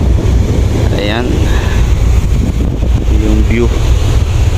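Steady wind roaring across the open roof deck of a 2GO ferry at sea near Coron, Palawan, with broadband wash of sea and engine rumble throughout and a few brief voices underneath.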